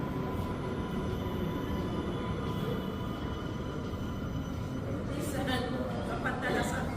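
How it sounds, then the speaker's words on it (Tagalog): A train arriving at a station, with a continuous rolling rumble of rail cars and faint wheel squeals rising near the end, while people talk nearby. "parating ang tren."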